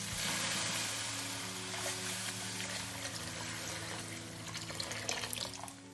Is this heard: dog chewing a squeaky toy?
no